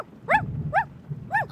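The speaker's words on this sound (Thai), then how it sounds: "ถ้าออกมาบ้านแล้วเห่าอย่างนี้นะไม่ต้องนอนกันพอดี" A puppy barks three times in short, evenly spaced yaps, each bright and clear over a low background rumble.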